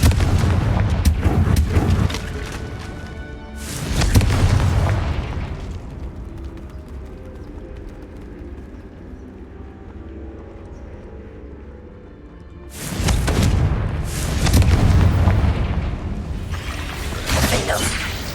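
Confringo fire spells burst in Hogwarts Legacy, two heavy booming explosions a few seconds apart, each with a rumbling crackling tail, separated by a lull of quieter game ambience.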